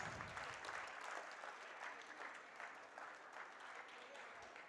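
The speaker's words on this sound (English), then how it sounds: "please give a big round of applause for all of our winners" Applause for prize winners at a school annual prize distribution, a faint, steady crowd of clapping hands sustained throughout, heard from a distance with a thin roomy quality.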